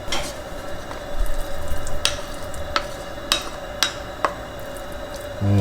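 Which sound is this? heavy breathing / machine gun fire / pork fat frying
pork fat frying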